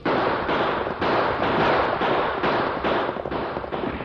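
Rapid volleys of gunfire in an outlaw shootout from a radio western drama, dense and continuous, with shots piling over one another at close range and no talk.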